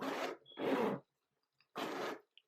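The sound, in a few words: zipper of Polène Numéro Dix bag being pulled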